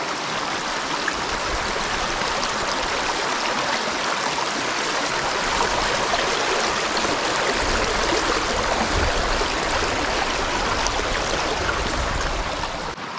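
A creek beside the Appalachian Trail rushes along loud and steady, a continuous broad wash of flowing water with no talk over it.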